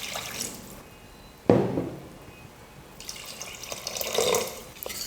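Water poured into rice for mushroom biryani in a home kitchen, a sudden splash followed by pouring and sloshing that comes in bursts, moderately loud, no voices.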